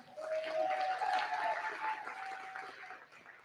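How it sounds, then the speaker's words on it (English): Applause from the audience at the 2019 AIFF awards ceremony, a steady wash of clapping that swells early and fades toward the end, with a faint sustained tone running beneath. "Round of applause for Andrew."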